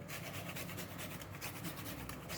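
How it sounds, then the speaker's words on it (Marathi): A whole nutmeg is rubbed against a grater, producing a continuous dry, quiet rasping scrape with a faintly rhythmic texture and no talk. "आता यामध्ये थोडंसं जायफळ हे किसून घ्यायचं आहे"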